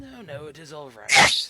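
A single sharp sneeze bursts out right after a few spoken words, loud and close.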